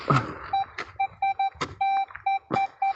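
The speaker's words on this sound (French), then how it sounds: "Un petit son pour Fred. Hop, pour le détecteur." Metal detector beeping during a coin-hunting outing, a series of short, steady electronic tones repeating in an uneven rhythm between brief rustling noises, fairly close and clear.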